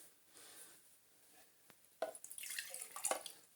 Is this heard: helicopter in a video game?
no